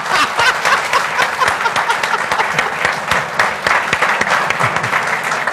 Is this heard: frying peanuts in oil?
no